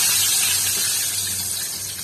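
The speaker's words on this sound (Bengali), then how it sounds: "তবে শুরুতেই আমি সরষের তেল গরম করতে দিয়ে দিয়েছি। এবার ফোড়ন দিয়ে দিচ্ছি।" Whole spices tempering in hot mustard oil in a home kitchen: a loud, dense crackling sizzle that continues without pause and fades slightly toward the end.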